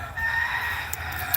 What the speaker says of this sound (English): The evening sounds lovely with all the tropical sounds of the bird and the roosters.